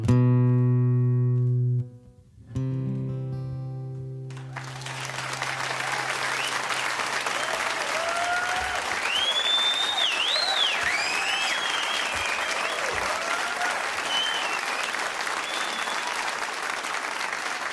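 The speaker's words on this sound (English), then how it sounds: "When they started clapping at the end, it felt like the claps were coming from behind me." Live audience at the end of a folk song performance: a sustained, dense burst of clapping follows the last held notes, with scattered cheers and whoops rising over the applause.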